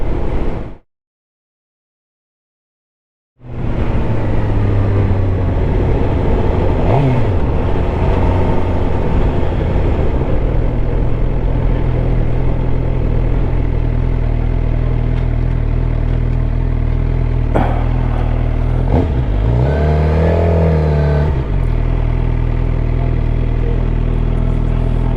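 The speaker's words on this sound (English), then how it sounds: "a CBR 650, and it's put an exhaust on it. Man, it's so loud. It sounds awesome." A Honda CBR 650 motorcycle with an aftermarket exhaust and cat delete roars loud and close after a brief silence, a steady engine drone rising in a couple of distinct revs.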